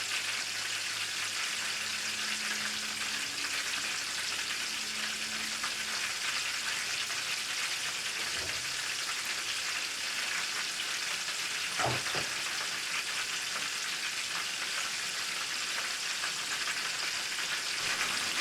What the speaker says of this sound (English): we let them fry